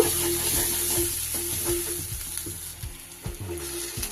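Spiced masala with turmeric, coriander and cumin powders sizzles steadily in hot oil while a spoon scrapes and stirs the pan in regular strokes, close and fairly quiet.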